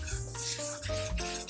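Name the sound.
stirring baking powder, baking soda and salt together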